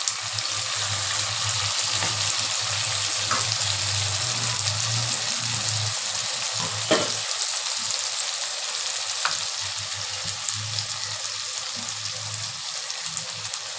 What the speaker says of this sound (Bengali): এবার আমি দিয়ে দেব পেস্ট করে রাখা মশলা